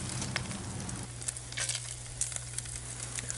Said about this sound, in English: Now it's time for some fried potatoes.